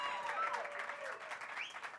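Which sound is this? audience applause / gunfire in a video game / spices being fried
audience applause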